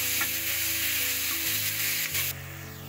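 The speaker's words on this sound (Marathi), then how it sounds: "छान परतून घेऊया गुलाबी रंग येईपर्यंत" Onions sizzle steadily in hot oil in a pan, sautéing for a dried bombil masala, with a dense continuous hiss that shifts slightly and drops in level near the end.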